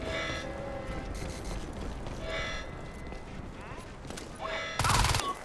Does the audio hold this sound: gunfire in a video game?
yes